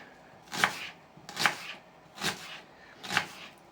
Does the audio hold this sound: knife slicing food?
yes